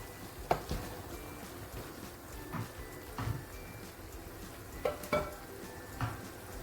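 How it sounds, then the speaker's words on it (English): Pasta sauce stirred in a pan over low heat, soft scraping and faint sizzling with several spoon knocks spaced irregularly, quiet and close, with no talking. "Stir gently. Now we are on a low heat."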